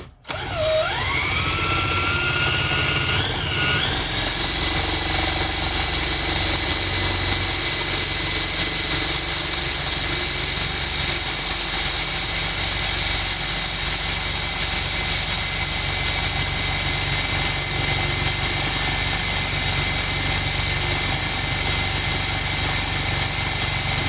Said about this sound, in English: as I spin up the alternator